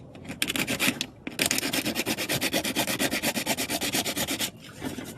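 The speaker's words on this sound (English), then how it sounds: "So you just sand wherever it was welded." Sandpaper rubs back and forth over the welded spots of a stock Mustang hood vent backing plate, a close, steady, rhythmic rasp of quick even strokes, with a short pause near the start and a softer fade at the end.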